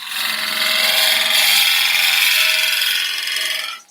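A woodturning gouge forced hard into wood spinning on a lathe makes a loud, continuous bright scraping hiss that holds steady for several seconds and then cuts off abruptly.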